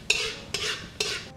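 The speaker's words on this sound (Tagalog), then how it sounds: "iba-brown natin yung bawang." Garlic sizzling and being stirred in a pan, with three distinct scraping bursts of a utensil moving it around, each fading into a steady frying hiss, close and fairly loud.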